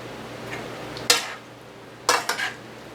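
Gluten-free noodles stirred and folded into cabbage and smoked sausage in a pan, heard as two close clusters of utensil scrapes and clinks over a faint sizzle, with no talking.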